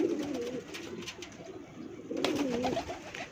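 Male pigeon of a breeding pair cooing in two clear, rolling phrases close by, one near the start and another after a short pause, with faint background noise and no talk.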